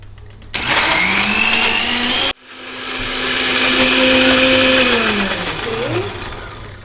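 A blender whirs loudly, cuts out briefly, then spins back up, its motor pitch rising and settling as it churns through matoke, Ugandan cooked green bananas.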